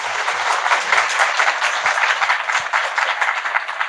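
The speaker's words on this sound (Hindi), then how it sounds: "एक बार जोरदार ताली योगी जी के लिए" An indoor audience breaks into loud, sustained applause, many hands clapping densely and evenly, close and steady throughout without talk.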